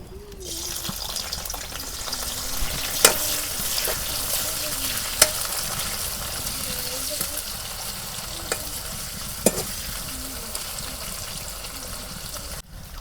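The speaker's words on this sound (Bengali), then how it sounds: "তেল গরম হয়েছে, এখন পেঁয়াজ কুচি দিয়ে দেবো।" Chopped onions frying in hot mustard oil in a kadai give a steady, close sizzle, broken by a few sharp utensil clinks from stirring.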